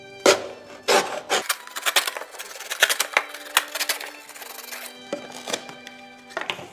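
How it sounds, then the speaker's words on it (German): The bottom is cut off a milk carton, close and loud, with crisp crunching snips and crackles of the carton in irregular bursts. "zuerst schneiden wir den Boden ab der Milchtüte, ungefähr 3 bis 4 cm"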